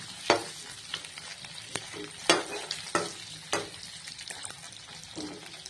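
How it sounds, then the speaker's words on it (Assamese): Eggs frying in a pan for an egg curry, a soft steady sizzle with sharp intermittent crackles and spatula scrapes, close and fairly quiet. "ডিমখিনি আমি ফ্ৰাই কৰি ল'ব"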